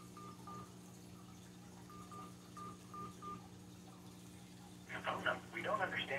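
Telephone keypad tones dial a phone number on an automated phone system: a string of short, evenly spaced beeps, fairly faint over a steady hum, and then a recorded voice speaks.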